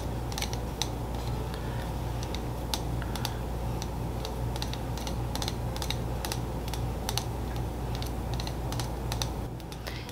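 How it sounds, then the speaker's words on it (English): Yarn flicking off the tip of a Viking-age spindle gives quick, irregular light clicks, a chattery ticking repeated throughout over a low steady background hum. "That little clicking sound that you hear is the yarn flicking off the tip of the spindle, and it makes that sort of chattery sound"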